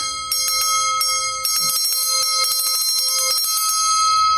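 A small metal bell with a lead-weight clapper hung on a bit of wire rings in quick repeated strikes, bright sustained overtones ringing on between hits, close and loud with no talk.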